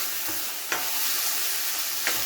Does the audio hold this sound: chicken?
no